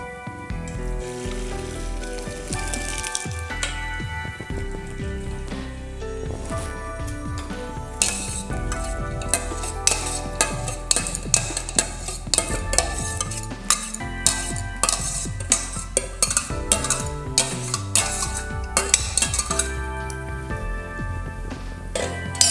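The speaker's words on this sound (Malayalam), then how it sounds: "വെന്ത ചോറ് വറുക്കണം." Cooked rice is fried and stirred in a pan for Kerala-style prawn biriyani: a spoon scrapes and clinks repeatedly against the metal over a faint sizzle, getting busier and more rhythmic partway through.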